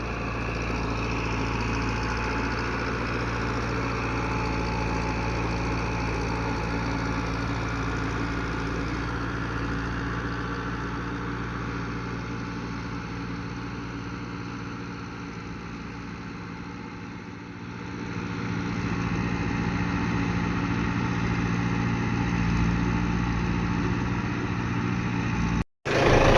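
A YTO NLX 904 tractor engine runs steadily for most of the span, a continuous mid-pitched drone with a slight dip and recovery partway through, loud and close with no talk.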